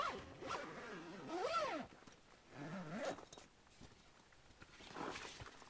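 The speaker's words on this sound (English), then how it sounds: "Then get your zipper." The zipper of a double swag tent is pulled in several short strokes, close and fairly quiet, with soft rustling of fabric between pulls.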